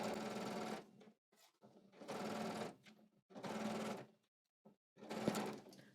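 A sewing machine stitches a skirt side seam in four separate runs of rapid, whirring needle chatter, each lasting under a second, with brief quiet gaps between them.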